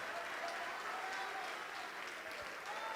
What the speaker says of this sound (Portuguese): Vamos aplaudir mais, está chegando mais.